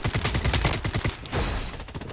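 A full-auto SKS rifle in the shooter Blood Strike fires a rapid, steady burst of evenly spaced shots, then the fire stops and a quieter tail follows.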